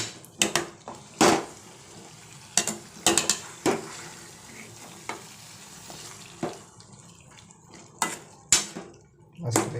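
Chicken sukka being stirred in a pan, a sharp spatula clattering and scraping against metal in irregular bursts over a low sizzle, with a voice speaking intermittently between the strokes.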